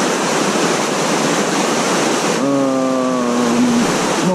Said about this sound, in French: je suis sur un ruisseau qui est un petit peu grand